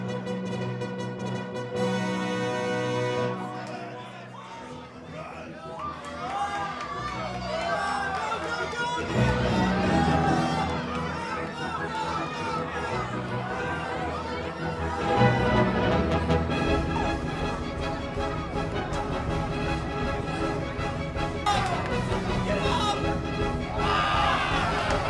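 Guests at a ranch lodge cheering and shouting at the weekly mouse races, a lively crowd with chatter and excited cries rising in bursts over background music, fairly distant and sustained throughout.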